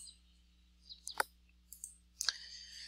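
A computer mouse clicks the send button on a virtual classroom inbox message: a few faint, close clicks scattered over a quiet couple of seconds.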